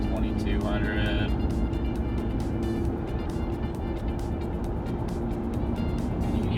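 Ram 1500 with a twin turbo exhaust, heard from inside the cab: a steady, moderate low engine and exhaust drone holds throughout, with no talking over it.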